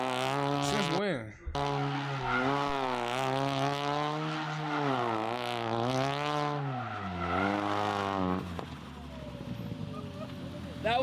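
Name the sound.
Ford Focus RS drifting with tire squeal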